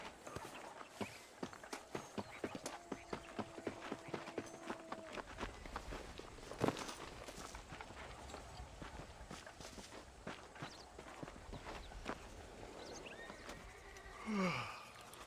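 Horse hooves clop at a steady walking pace in the Red Dead Redemption video game, soft and regular throughout, with a brief sigh-like sound near the end.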